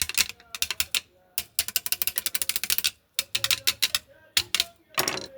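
A Juki sewing machine, freshly oiled after jamming, is turned slowly by hand, giving rapid runs of sharp mechanical clicks and ratcheting ticks in bursts separated by brief pauses, close and loud.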